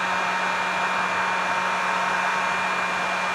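A heat gun blows steadily on a painted goby-pattern fishing jig, smoothing out crinkled paint with a constant, loud, hissing rush of air and no talk.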